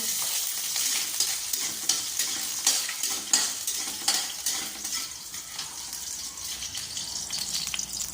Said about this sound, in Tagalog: So, gisa na natin ang ating bawang.